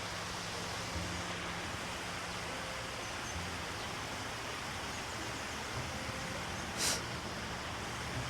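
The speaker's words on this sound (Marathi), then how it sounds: "तुम्ही आवाज ऐकू शकता झऱ्याचा." A hillside stream rushes steadily in a constant broadband wash nearby, with one brief sharp noise near the end.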